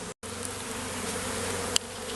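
Bees buzz at a hive where workers are bringing in rapeseed pollen, a dense steady hum close by, with a brief dropout near the start and a small click near the end.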